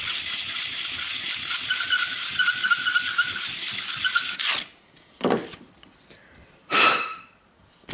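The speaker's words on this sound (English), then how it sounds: "I will get some 800 grit sandpaper and just go like this." 800 grit sandpaper rubbing an acrylic tube, a steady loud rasping scrub that stops after about four seconds, followed by a few short bursts of scraping or blowing.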